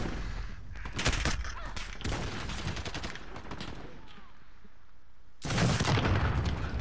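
Rapid bursts of gunfire from a Call of Duty Modern Warfare gun game match on a small map, loud volleys near the start, a quieter stretch, then another heavy burst near the end.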